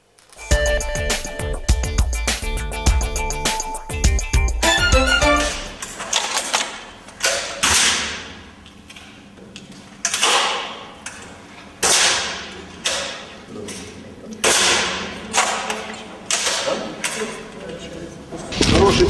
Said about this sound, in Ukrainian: Учні стріляли з пневматичної гвинтівки.